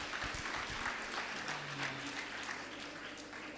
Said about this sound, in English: Let's give a clap to our Reverend.